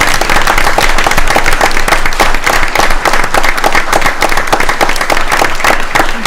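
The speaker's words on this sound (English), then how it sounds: "let's give them a round of applause" Audience applause at a school board meeting: dense, steady clapping from a room full of people, loud and sustained for several seconds without pause.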